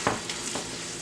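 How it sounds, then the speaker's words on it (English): Gravy being stirred in a hot pan, a spoon scraping through it with a soft sizzle underneath, two or three quick close strokes. "let's get it all stirred together"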